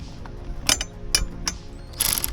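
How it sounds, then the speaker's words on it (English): An electric ratchet turns the blade bolt on a lawnmower, giving a few short whirring bursts with clicking pawl sounds over low mechanical hum, close and moderately loud, with no talking. "Now I've got an electric ratchet."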